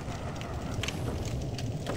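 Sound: fire-breathing dog in the video game Dark Souls

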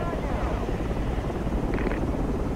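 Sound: helicopter in video game

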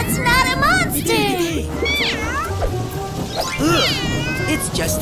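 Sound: cat meowing

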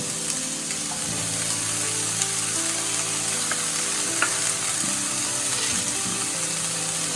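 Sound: garam masala and chili stirred and frying in pan

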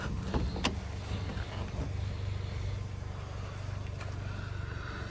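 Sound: power folding car side mirrors folding

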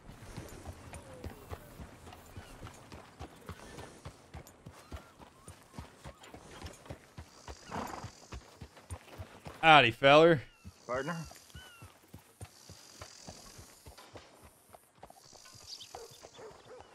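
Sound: horse hooves and whinnying in the video game Red Dead Redemption 2

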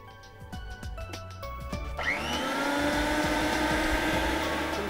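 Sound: mixer grinder grinding soaked rice and grains

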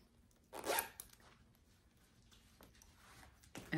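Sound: zipper on Vera Bradley crossbody purse being opened

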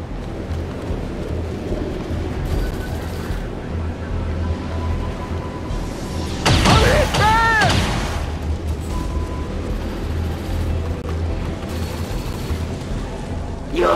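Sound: heavy gunfire in video game XCOM 2 War of the Chosen

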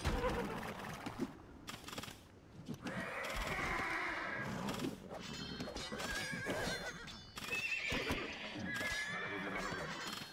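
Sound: horses neighing in video game Age of Empires II DE

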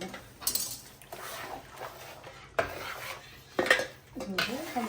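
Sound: metal strainer put into a cooking pan

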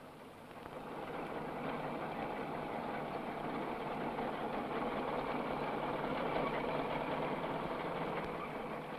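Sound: tractor engine hauling timber logs

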